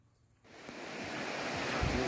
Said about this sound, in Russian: Пляж в разгар сезона.